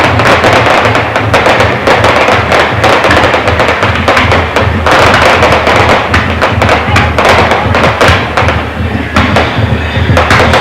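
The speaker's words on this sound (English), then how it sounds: "They've set off this huge display of fireworks into the night sky in Darwin." A huge fireworks display bursts over Darwin at night during the 1993 Arafura Games opening ceremony, with dense, continuous loud thuds and crackles and no pauses.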